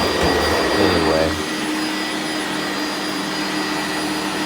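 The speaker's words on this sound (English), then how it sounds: "So you may end up seeing my shop vac." A shop vac vacuum cleaner used for carpet cleaning runs nearby with a loud, steady whooshing drone, its pitch shifting briefly at the start before settling into a constant roar.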